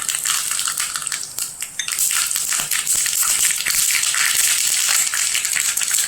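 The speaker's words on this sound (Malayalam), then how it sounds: "എണ്ണ ചൂടായി കടുക് ചേർക്കാം." Mustard seeds hit hot coconut oil in a pan while tempering a curry, setting off loud, close, continuous crackling and popping spatter.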